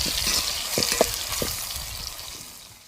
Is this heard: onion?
yes